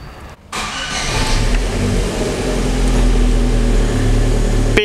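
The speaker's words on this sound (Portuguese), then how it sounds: "Vou funcionar o carro depois de umas horas, né? Parado." A Chevrolet Corsa Classic flex-fuel car that has sat for hours, with a fuel level sensor fault, cranks briefly and catches right away. The engine then settles into a steady, loud, close idle with no talking.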